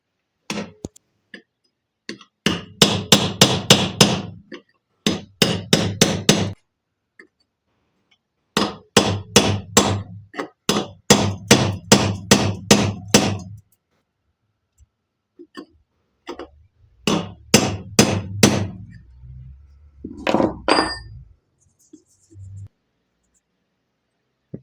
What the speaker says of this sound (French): j'y tape dessus avec un burin